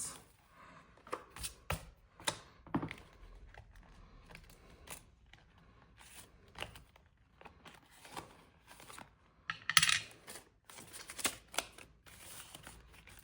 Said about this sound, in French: Mais je vais gratter la dernière petite carte.